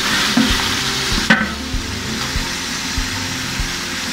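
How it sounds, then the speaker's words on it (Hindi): Chicken frying with spices in a pot: a steady sizzling hiss broken by regular dull knocks and scrapes of stirring, close and fairly loud, with no talk. "तमाम मसाले के साथ चिकन अच्छे से भून लें"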